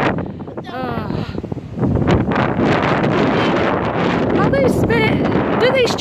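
Strong gusting wind on a wet, cold day on a trip out to Ryde, buffeting the microphone in a loud, continuous roar, with voices speaking briefly through it.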